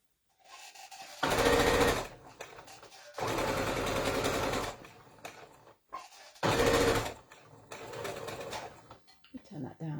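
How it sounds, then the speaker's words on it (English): Sewing machine chain stitching quilt pieces: loud bursts of rapid mechanical stitching rattle in short runs separated by pauses, with someone speaking in the gaps. "I'm just going to chain stitch them all down one side and then flip them around and do the other side."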